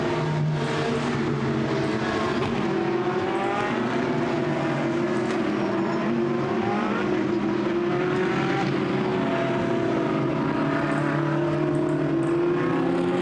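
A field of GT sports cars rolls around the Misano circuit on a formation lap. Many engines make a steady, layered roar that drones on loudly throughout with no break. No one speaks.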